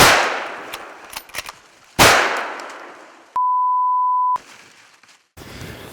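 Two loud, sharp rifle shots fired at a black bear during an Alaska hunt, a couple of seconds apart, followed by a steady electronic beep tone and brief rustling.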